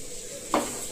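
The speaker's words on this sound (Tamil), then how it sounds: "கேரட், பீட், தக்காளி, வெங்காயம் எல்லாம் போட்டு வதக்கிட்டு இருக்கீங்களா?" Carrot, beet, tomato and onion sautéing in a pan, with a steady soft sizzle and one short scraping stir of a spatula partway through, close and alone.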